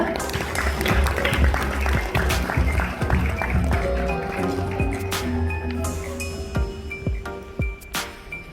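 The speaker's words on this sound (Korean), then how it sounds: "여러분 큰 박수 맞아주시기 바랍니다" An audience at a healthcare innovation forum applauds to welcome a lecturer, a dense, loud burst of clapping at the start that gradually thins and fades, with scattered claps and clinks toward the end.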